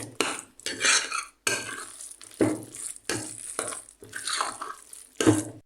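A spoon stirs a chicken and prawn filling mixed with all-purpose flour in a bowl for Lorr Bak (Ngoh Hiang): repeated close, wet scraping and clinking strokes, each short burst followed by a brief pause.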